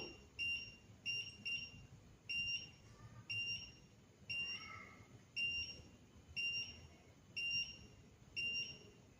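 An IoT flood early-warning system's electronic buzzer alarm beeps in short, shrill bursts, repeating steadily about once a second over quiet background noise.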